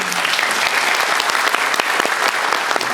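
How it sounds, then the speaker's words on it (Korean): Dense audience applause fills a cinema at a Busan International Film Festival guest visit screening, steady and loud throughout with no talk over it. "너무 좋은 얘기를 해주셔서 박수를 한번 주셨습니다"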